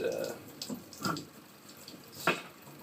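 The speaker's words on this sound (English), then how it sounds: "I have terrible water pressure on this sink" Water runs from a low-pressure sink faucet while vacuum filters are washed under it, a steady close wash broken by uneven splashing bursts.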